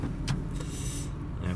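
A Porsche 987 Cayman starts with a short burst of starter cranking before the engine catches, then runs at a steady, close idle with a brief rev swell in the middle.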